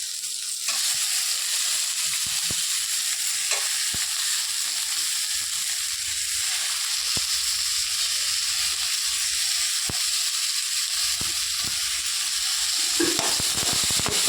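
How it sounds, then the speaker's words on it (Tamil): Tomatoes drop into a pan of hot oil with frying chana dal for an onion chutney and crackle in a loud, continuous sizzle. Occasional stirring clicks punctuate the frying, which stands alone without speech. "தக்காளியை வந்து போட்டுடலாம்."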